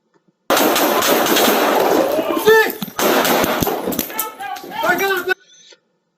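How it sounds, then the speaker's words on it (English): Loud, rapid bursts of gunfire during a police shooting crackle continuously with a brief break, while officers shout over the shots. "Shot fire! Shot fire!"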